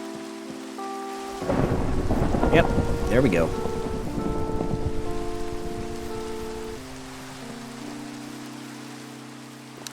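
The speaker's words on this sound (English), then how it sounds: "I think this is a thunderstorm, actually." Steady rain pours during a nighttime thunderstorm in Minecraft, with a loud rumble of thunder swelling and rolling for a few seconds before easing back into the constant downpour; a voice speaks briefly over it.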